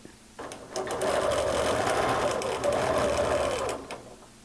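A sewing machine stitches free-motion quilting with a darning foot guided against a ruler, running in close, steady bursts with a brief slowdown midway before stopping.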